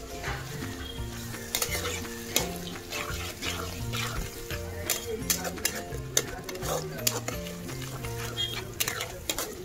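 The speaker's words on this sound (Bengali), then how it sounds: "তো মশলাটা আমার তেলের উপরে কষানো হয়ে গেছে" Spice paste fries in oil for prawn malai curry, a sizzling hiss under irregular stirring and scraping clatters, with soft background music playing throughout.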